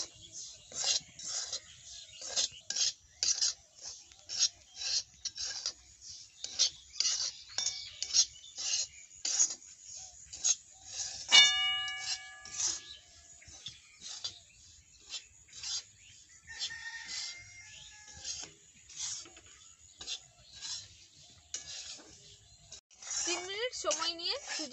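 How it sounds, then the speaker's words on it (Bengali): Semolina is stirred as it dry-roasts in a pan over medium heat, making a quick, regular run of light scraping ticks, close and fairly soft, with a few brief tonal sounds in the background. "এবারে মিডিয়াম আঁচে নাড়াচাড়া করে 3 মিনিট মতো সময় নিয়ে সুজি ভেজে নেব"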